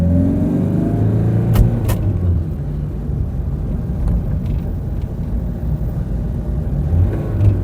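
Car with a semi-automatic gearbox, one showing a malfunction with a flashing N, rumbles steadily close by as the engine pulls through the gears, a low continuous drone with a few brief clicks and no voices.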